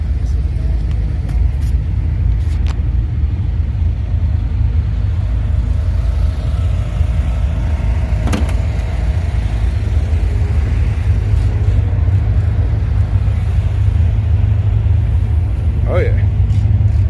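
Cammed Ram truck engine idling after new long-tube headers and a blower, a steady deep rumble running throughout at close range, with occasional voices over it.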